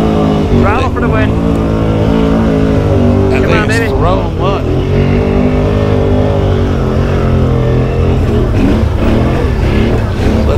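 A Can-Am Outlander 650 XMR ATV at full throttle in mud, a loud close engine roar with rising and falling revs throughout, and voices heard over it.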